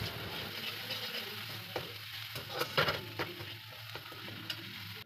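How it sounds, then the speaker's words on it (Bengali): Onion, ginger and garlic paste stirred and frying in hot oil for kadai paneer, a steady close sizzle with scraping spoon strokes and soft clinks against the pan, no voices. "এবার পেস্টটাকে ভালো করে তেলে নাড়াচাড়া করে নেব।"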